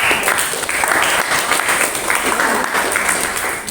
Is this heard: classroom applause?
yes